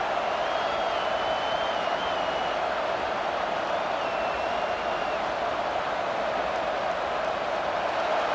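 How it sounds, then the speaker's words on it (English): A football stadium crowd at Notre Dame roars in a steady, dense wash of noise that holds level throughout, with occasional higher whistles or shouts rising above it. "This crowd trying to make life miserable for this offense."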